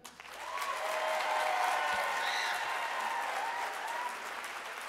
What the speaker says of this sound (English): Let's give it up for black women.